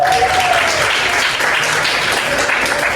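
A high school chemistry class in Indonesia breaks into steady, dense applause, a few seconds of continuous clapping from many students filling the room.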